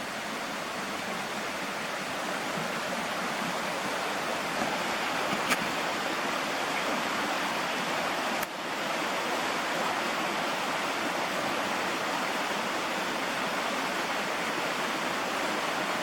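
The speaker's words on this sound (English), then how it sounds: "And there's the river." A river at a riverside campsite flows with a continuous, even rushing hiss of water, steady and close for the whole stretch, with a couple of faint clicks and no voices.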